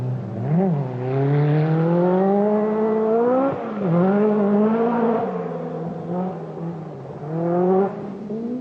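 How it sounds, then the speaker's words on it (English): A Lancia rally car races along a forest rally stage, its engine climbing and dropping through the gears in a loud, sustained drone as it passes. "Marco Elaine in the Lancia was even faster"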